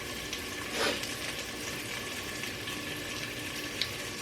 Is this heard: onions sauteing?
yes